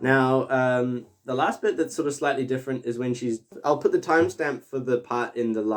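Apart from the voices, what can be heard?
No everyday noises stand out.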